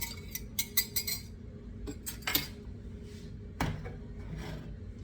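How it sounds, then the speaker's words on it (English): A whisk clinking against a bowl while mixing a smooth, warm mustard glaze for game hens, with bursts of quick metallic taps and scraping strokes, close and moderately loud, with pauses between. "That's why I use the whisk, because mustard doesn't mix that well with it."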